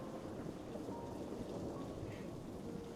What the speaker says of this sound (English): Now, I guess we're stuck here until the rain clears.